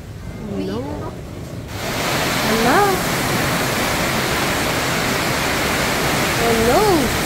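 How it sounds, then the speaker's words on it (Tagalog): A sudden flood sends water rushing past in a broad, loud roar that swells abruptly and then holds steady, while voices call out briefly over it. "Ang bilis bumaha."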